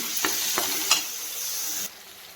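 Turmeric is stirred into a sizzling mixture in a pan, with a steady frying hiss broken by three or four sharp scrapes of the spoon before the sound drops away.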